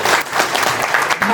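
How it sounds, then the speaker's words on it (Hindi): Applause from an audience at a laminates company event in a hotel in Varanasi, brisk dense clapping close and loud for a moment, with faint voices underneath. "उन सभी के लिए एक बार तालियां होनी चाहिए।"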